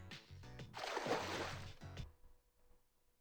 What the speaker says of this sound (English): You hear splashing from the hot spring.